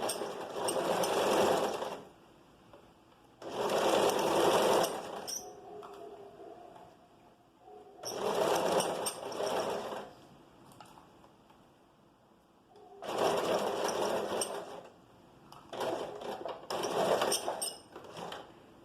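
A sewing machine stitches the armhole seams of a vest in four separate bursts of rapid, buzzing stitching, each a couple of seconds long, with quiet pauses and small handling clicks between them.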